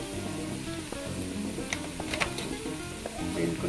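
Green chili frying in a pan while making creamy cheesy bread fingers, giving a continuous close sizzle with scattered crackling pops and soft stirring scrapes.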